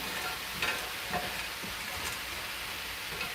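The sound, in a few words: frozen vegetables sizzling in a pan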